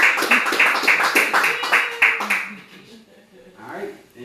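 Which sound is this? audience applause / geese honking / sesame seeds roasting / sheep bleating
audience applause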